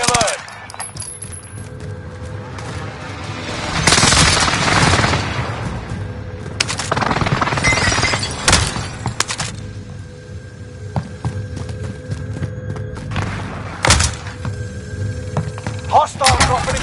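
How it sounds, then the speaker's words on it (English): Enemy precision airstrike in the Warzone battle royale game: several heavy, broadband blasts at irregular intervals over a bed of rattling gunfire and mechanical clatter, with loud impacts fairly close by. "Enemy precision airstrike."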